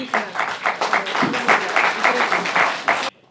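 A crowd applauds in a district council hall in Poltava region: dense, fairly loud clapping in uneven surges for about three seconds, then it cuts off abruptly into near silence.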